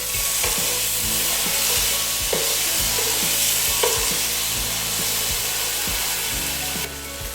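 Cubes of tofu fry in a hot pan for Pad Thai with a steady, close sizzle, broken by repeated clacks and scrapes as they are tossed and stirred.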